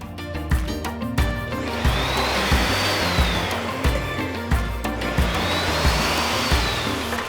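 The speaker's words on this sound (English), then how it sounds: "I think that needs a little bit more salt, just a little pinch, and blend it again real fast" A blender whirs continuously at close range, blending a thick vegan cheese mixture with a little extra salt, its motor steady and loud throughout with a slight rising whine partway and again near the end, no talking.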